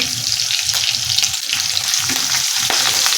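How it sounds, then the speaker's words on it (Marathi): Ginger-garlic paste with green chillies fries in a pan with a dense, steady sizzle, close and continuous, broken by a few soft scraping stirs of a spoon; no talk. "आलं लसूण पेस्ट चांगली लाल होईपर्यंत परतून घ्यायची आहे"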